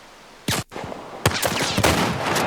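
A weapon firing in The Last of Us Part 1: a few loud, close, sharp gunshots, the first standing alone and the later ones following in a quicker, ragged run over a steady background din.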